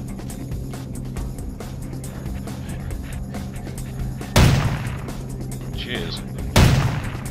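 Two heavy gunshots ring out from a gun in the Vampire the Masquerade video game, a few seconds apart over a constant game background hum, with a player's brief exclamation in between.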